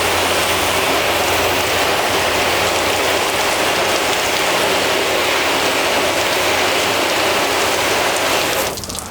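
A garden hose sprays water across a freshly waxed car panel, a steady close hiss like heavy rain that runs continuously, then thins and drops off right at the end.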